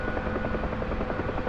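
A UH-1 Huey helicopter flies in the DCS simulator, its steady rotor thrum and turbine drone filling the whole stretch at an even, constant level.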